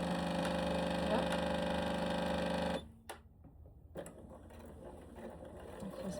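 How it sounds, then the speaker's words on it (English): A sewing machine stitches slippery nude mesh fabric, running in a steady loud whir for nearly three seconds before stopping, followed by quieter handling sounds and faint room noise. "I'm just going to catch that other edge with a few more stitches too"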